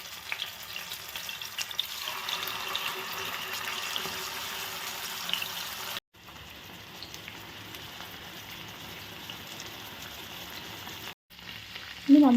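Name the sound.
Afghani chicken pieces frying in oil in a pan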